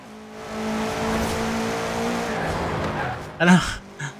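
A 2013 Subaru BRZ rear-wheel-drive race build in Forza Horizon 4 holds a steady engine drone, then breaks into a short loud tire squeal as it oversteers on a wet patch, followed by a smaller chirp.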